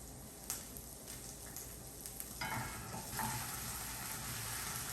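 Peas fry with a pinch of salt in a pan, giving a soft steady crackle. Small bursts swell a little near the 2.4 and 3.2 second marks, faint and close with no voices.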